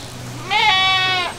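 A goat bleating for her kids on a farm: one loud, close, drawn-out nasal bleat lasting about a second, rising sharply and then holding steady over quiet background.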